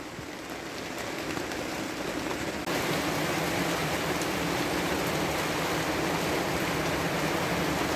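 Heavy rain pours steadily at a countryside dacha, a dense, loud hiss of drops on surfaces that swells slightly stronger after a few seconds and continues unbroken, with no voices.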